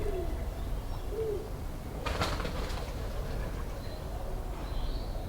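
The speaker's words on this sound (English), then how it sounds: "Oh, it's a pigeon." A pigeon gives a few soft, low coos, faint against a steady noisy background, with a brief rustling burst midway.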